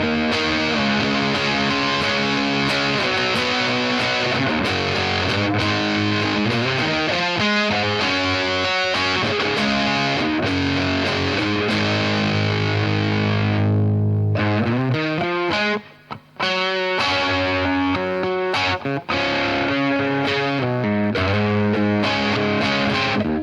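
A Fulltone Soul-Bender fuzz pedal with gain all the way up drives an electric guitar into a thick, saturated, buzzing tone with a constant hiss beneath. It plays loud and continuous with a brief gap partway through.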